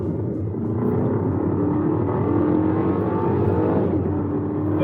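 A BMW X1 in sport mode accelerating, its engine a steady, rising rumble heard from inside the cabin, continuous and fairly loud with no talking.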